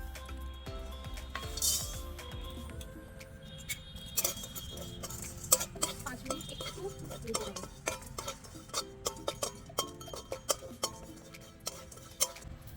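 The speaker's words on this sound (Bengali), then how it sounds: "এগুলো একটু হালকা কড়াইতে ভেজে নেব।" Whole spices are dry roasted and stirred in a kadai, giving soft scraping with scattered light metallic clinks and ticks that grow busier as stirring continues. The sound is close and fairly quiet.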